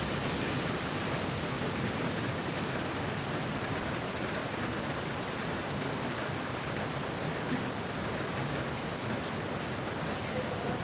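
Heavy afternoon rain in Navi Mumbai pours down as a dense, unbroken hiss of falling water that stays steady and even from start to finish, with no voices.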